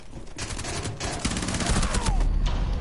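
Rapid gunfire bursts in Rainbow Six Siege, loud crackling shots in quick clusters with a heavy low-end thump, close and dominant throughout, no talking.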